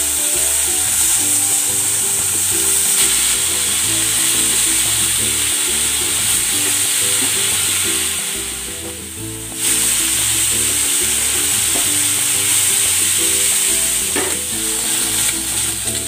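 Pork frying in a pan for a Filipino ulam, a steady loud sizzle with faint stirring, continuous throughout and dipping briefly about two-thirds of the way in, with no talking.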